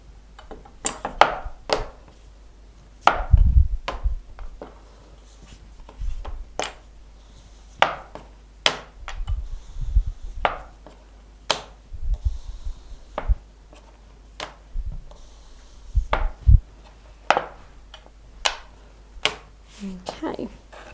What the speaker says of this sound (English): I'm going to cut lots of different size windows out.